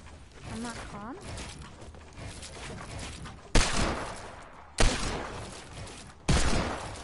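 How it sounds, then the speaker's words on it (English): Loud sharp gunfire from a hand cannon in a video game, three heavy single shots spaced over a couple of seconds, following a stretch of game sounds and talk. "I hear your dumb hand cannon."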